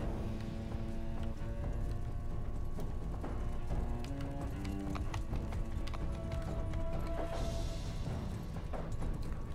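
Many hooves clatter in a rapid, continuous clip-clop of galloping cavalry in Mount & Blade II: Bannerlord, with a neigh and steady mechanical background hum.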